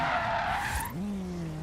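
A Nissan Sylvia S14 slides in Forza Horizon 3, tires screeching loudly in a drawn-out skid, then a rising engine note takes over as the squeal fades.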